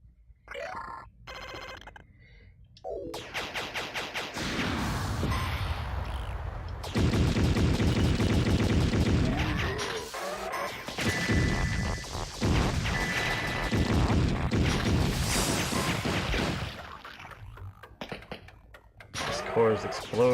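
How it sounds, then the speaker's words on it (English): The arcade shooter Chaos Heat fills the air with dense, continuous gunfire and booming explosions during its final stage, loud and unbroken, with a voice talking over the action. "cores explode when you shoot them"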